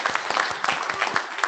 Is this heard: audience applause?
yes